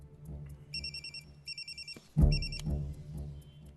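A telephone rings in a film scene with repeated electronic trills in short regular bursts, cut by a brief thud partway through, and the ringing continues against low background sound.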